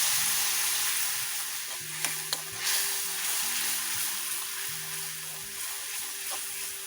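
Garlic paste and cumin seeds sizzle loudly in hot oil for garlic chutney, a steady close frying hiss with a few sharp pops and a low electrical hum underneath.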